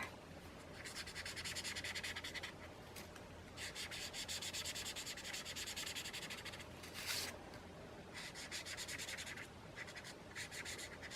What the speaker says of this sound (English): So I'm just going to color the whole background in green.